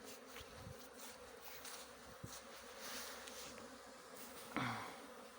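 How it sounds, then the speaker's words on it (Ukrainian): A continuous buzzing hum of many honeybees flying out of their hive on a pre-winter cleansing flight in November, fairly close, with occasional louder passes near the listener. "Декотрі бджоли сильніші вилітають, деколи декотрі слабше."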